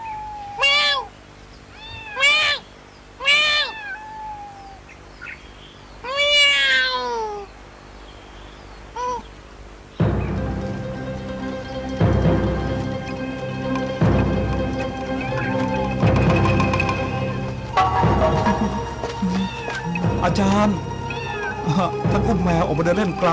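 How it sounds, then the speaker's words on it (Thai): Cat meowing in a forest, several short rising calls in the first few seconds, then a busier stretch of background sound with scattered clicks and thumps. "แมวน่ารักจังเลยนะ"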